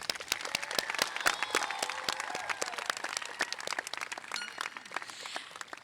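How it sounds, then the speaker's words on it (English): A high school commencement crowd gives its speakers a round of applause, with individual crisp claps standing out in a moderately loud, continuous wash that thins slightly toward the end. "Let's give a big round of applause for all of our speakers today."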